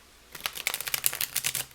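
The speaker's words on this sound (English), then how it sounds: "Let's see how it shuffles before we finish this video." A thin tarot card deck being shuffled, giving a quick run of crisp riffling clicks that fire in a dense, rapid patter for about a second and a half, close by and fairly quiet, with no voices.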